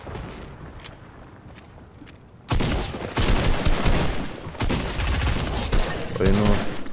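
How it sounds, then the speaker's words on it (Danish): Fireworks going off in the Fortnite video game: a burst of loud, rapid crackling and popping explosions starts suddenly a few seconds in and keeps going near and dense, like a fusillade, with quieter in-game sounds beforehand. "Så kan vi lige stå og lave den sådan her med fyrværkeri."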